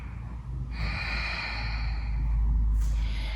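A person in a yoga pose, hips lowered toward the floor, takes a slow, deep breath, with a long, audible, airy exhale close to the ear and a short sharp intake at the end, with no speech.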